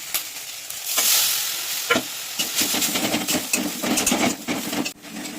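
Chili and turmeric spice paste sizzles and spits in a hot wok, with the steady crackle of frying broken by scraping stirs and clatters of the spoon, close and fairly loud throughout.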